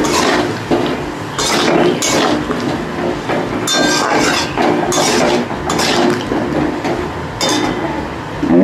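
Potato and taro pieces being stirred and fried with spices in a pan, loud close scraping and clinking of a spatula against metal in irregular strokes over a constant sizzle, with no talking.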